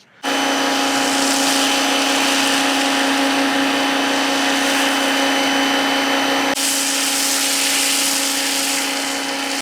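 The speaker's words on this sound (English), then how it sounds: "Let's foam up the car." A power washer drives an MJJC foam cannon onto a car as one loud, steady, close hiss. It starts abruptly, holds with a constant pitch and shifts briefly partway through.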